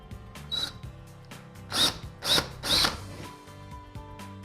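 A power drill fitted with a 1/4 inch bit bores into an office wall in three short, loud whining bursts, each under a second, with brief quiet gaps between them and a low steady room hum beneath.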